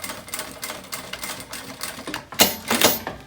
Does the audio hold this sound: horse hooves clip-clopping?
no